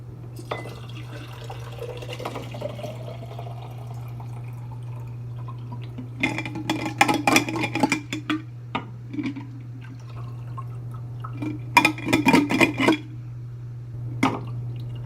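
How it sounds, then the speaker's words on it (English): Kava poured and decanted from a big jar, bursts of splashing, dripping liquid in two main spells over a steady low electrical hum, close and moderately loud. "So I'm going to decant this."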